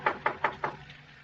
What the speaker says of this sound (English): When I got up there, I knocked on the door.